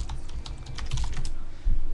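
Typing on a computer keyboard: quick, irregular clicking keystrokes, close and clear, with no talking.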